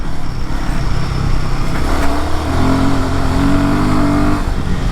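A Royal Enfield Himalayan 450's Sherpa 450 engine runs close by with a loud, steady drone, then rises in pitch midway as it revs before settling.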